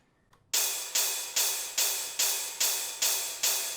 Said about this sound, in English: Then there's another one.